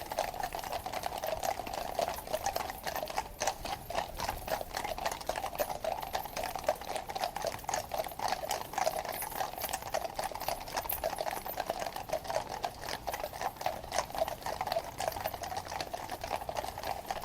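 Household Cavalry horses approach Horse Guards Parade in London, their hooves a quick, steady stream of clattering beats on hard ground, fairly faint and distant with no speech.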